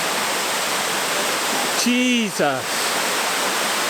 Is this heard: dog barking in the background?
no